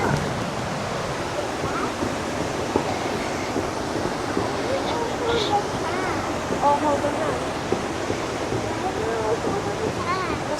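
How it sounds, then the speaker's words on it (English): Rushing water in the Highlands at Glen Orchy, a steady broadband roar of a fast river or falls that fills the whole span, with voices of people talking faintly over it. "The power of the water."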